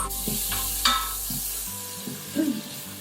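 Onion and garlic sauté in an Instant Pot, giving a soft sizzle with a few spoon scrapes and stirring knocks, fairly close and without talk.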